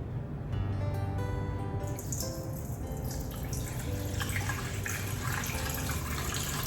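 Water pours steadily into a bowl for sourdough pizza dough, a continuous close splashing stream with a few higher drips, no speech over it.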